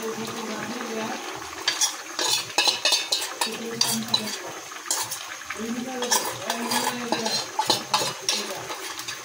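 A spoon stirs ground spice paste into a pot of chital fish curry, with repeated scraping and clinking strokes against the pot over a low sizzle, close and moderately loud.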